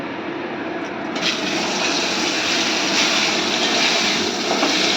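Fish fries in hot oil, giving a loud, steady, broadband hiss that stays continuous and close throughout with no talking.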